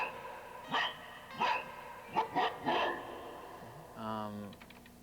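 A sampled dog bark played on a Synclavier digital synthesizer, several short percussive barks in an irregular rhythm, followed by a brief synthetic tone, with a voice speaking nearby.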